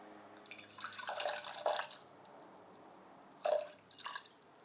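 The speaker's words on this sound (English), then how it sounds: "And now we are going to take our 3 spirit blend and pour 50 milliliters into our shaker." A three-spirit blend for a mocktail is poured into a cocktail shaker in two short bursts of liquid trickling and splashing, close and fairly quiet, separated by a pause.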